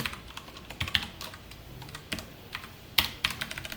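Computer keyboard typed on while writing C code for an array exercise, with irregular bursts of close clicking keystrokes and short pauses, no talking.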